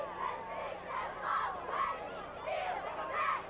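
Crowd at a 1989 high school football game between Weymouth North and Silver Lake, heard from a distance as rhythmic waves of chanting and cheering, fairly faint.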